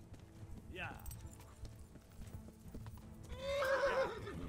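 A horse in the video game Kingdom Come: Deliverance whinnies loudly amid clip-clopping hooves, with a quieter earlier neigh and a voice talking faintly underneath.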